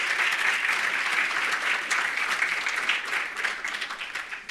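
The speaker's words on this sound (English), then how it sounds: "Please give yourselves a round of applause." Sustained audience applause fills a hall at a memorial lecture, dense and steady throughout before thinning slightly near the end, with no voices over it.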